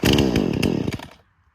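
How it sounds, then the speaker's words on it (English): A chainsaw being pull-started sputters loudly and roughly for about a second with rapid pulsing bursts, then cuts out and falls nearly silent. "I can almost feel when my chainsaw is going to start."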